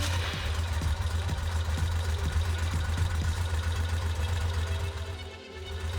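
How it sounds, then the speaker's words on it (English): Motorcycle engine, on a bike being checked for battery charging, starts with a few uneven low thumps, then settles into a steady low idle at close range, with no talking. "I start the engine."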